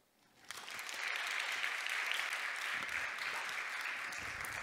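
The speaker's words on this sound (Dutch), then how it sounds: "Willen jullie mij helpen, Fip, met een hele warme en hartelijke Studium Gent applaus welkom te heten op ons podium?" Warm applause from a Studium Gent audience welcoming a speaker to the stage rises quickly from near silence and holds as a steady, full crowd clapping to the end.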